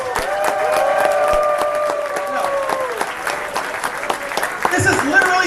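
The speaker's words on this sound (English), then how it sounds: "Please give them a big round of applause." At a closing ceremony, an audience breaks into steady, dense applause that holds evenly for several seconds, with a few voices calling out through the clapping.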